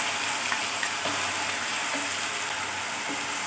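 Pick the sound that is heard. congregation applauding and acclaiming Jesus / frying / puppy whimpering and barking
frying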